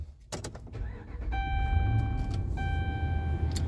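A 2012 Ram 1500 pickup being started: a few soft clicks, then a short crank that catches into a steady, close engine idle with thin chime-like tones ringing over it.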